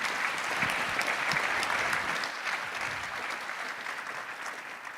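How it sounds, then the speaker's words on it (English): Audience applause at the ITC 60th anniversary celebration: dense, even clapping from a large indoor crowd that holds steady, then eases slightly toward the end. "Please, let's give a warm round of applause."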